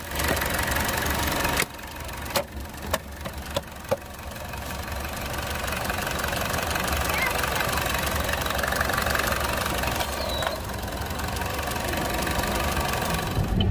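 A Chevy 1.4L Ecotec engine, fitted to a Cruze, Encore, Trax or Volt after a purge valve replacement, runs steadily during a test drive. A few sharp knocks come early, then a constant drone and road noise with no talk.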